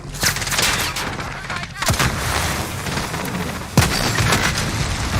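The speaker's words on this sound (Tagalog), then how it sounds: "Sumabog kasi yung kotse. Sumabog sa thermite." A car blows up from thermite in a Warzone match, with sharp booms and bursts of gunfire-like blasts at close range, loud against a constant noisy battle background.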